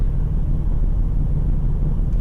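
A Plymouth Road Runner muscle car engine in Car Mechanic Simulator starts and idles with a steady low rumble, running continuously without pauses at a moderately loud level.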